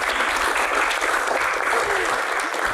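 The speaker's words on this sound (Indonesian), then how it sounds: "Tepuk tangan." Loud, dense clapping from a crowd, sustained evenly for a few seconds without pause.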